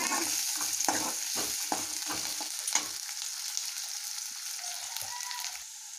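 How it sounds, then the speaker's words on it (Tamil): Onions sautéing in a pan sizzle steadily up close, with a run of rhythmic stirring scrapes in the first three seconds before the frying hiss settles and fades slightly. "நல்லா வெங்காயத்தை வதக்கிக்கலாம்"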